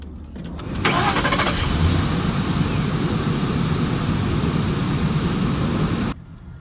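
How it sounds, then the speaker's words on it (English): A car engine, jump-started with a Pelsee E1 jump starter, cranks briefly, catches, and settles into a loud steady idle before cutting off abruptly near the end. "Then go ahead and start your engine."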